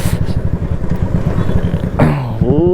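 BS6-standard motorcycle on a ride, its engine running loud and close with a steady throbbing note, then rising in pitch as it revs and accelerates near the end.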